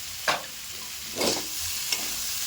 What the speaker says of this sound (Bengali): নেড়ে চেড়ে নিচ্ছি ভালো করে